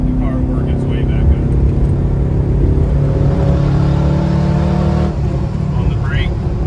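A Ford Crown Victoria on a track drones loudly with a steady engine rumble, easing as it brakes into a corner, while someone talks over the cabin noise.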